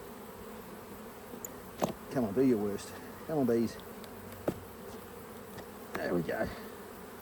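Honey bees buzz around an opened hive, with close individual buzzes swooping past in several passes over a faint hum, while a person speaks briefly.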